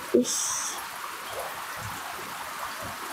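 Rain falls steadily in a steady, soft, even hiss with occasional drips, and a brief knock is heard at the start.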